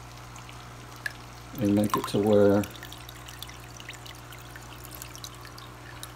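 Water poured into an aquarium filter, a brief splashing gurgle lasting about a second under a voice, set against a faint steady hum.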